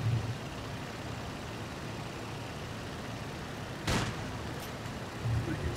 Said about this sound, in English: Uncomfortable close engine?